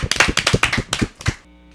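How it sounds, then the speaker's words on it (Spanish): A small audience applauds a punk band after their set, a short burst of close, loud clapping that cuts off abruptly into quiet near the end. "Un fuerte aplauso para ellos."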